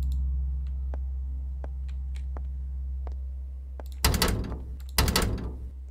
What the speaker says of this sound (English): One of the doors opened.